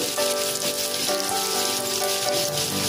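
Six or seven finely chopped garlic cloves sizzle in hot oil in a pan over a medium flame, a steady, close crackling fry that runs the whole time beneath soft background music.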